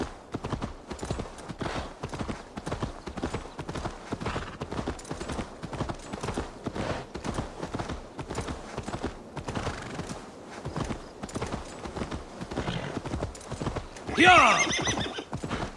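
Horse hooves clip-clop in a steady rapid gallop throughout, close and continuous, with a brief neigh near the end, in the Assassin's Creed Valhalla video game.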